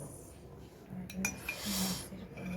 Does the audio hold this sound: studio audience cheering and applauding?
no